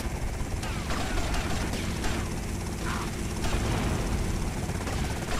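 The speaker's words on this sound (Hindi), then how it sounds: "तो ये हेलीकॉप्टर फिर से आ गया" Helicopter in the video game GTA Vice City, a steady loud rotor-and-engine drone that fills the whole stretch with crackling gunfire bursts layered over it, no voices.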